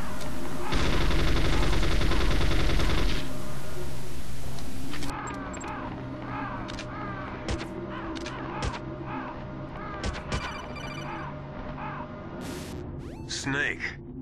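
Gunfire at crows in the Metal Gear Solid video game: a long loud burst of automatic fire, followed by scattered single shots and crow caws over game ambience.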